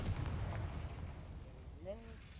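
A Confringo fire spell bursts in the Hogwarts Legacy video game, a loud, rumbling explosive blast with a heavy low roar that sustains throughout, and a brief vocal sound rises near the end.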